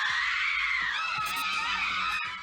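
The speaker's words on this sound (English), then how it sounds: "Watching these girls scream in horror as they do this poopy pants shuffle down the hallway" Several girls scream in horror in an FMV horror video game, a sustained shrill shriek lasting over two seconds, loud and close, with no other voices.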